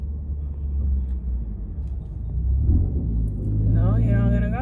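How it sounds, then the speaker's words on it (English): A big truck rumbling past a parked car, a loud low drone swelling and fading with a brief rise near the end, under people chatting in the car. "Man, this big ass truck."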